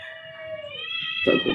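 A person's voice imitates a cat's meow in one drawn-out, tonal, wavering cry, ending in a brief burst of rougher noise.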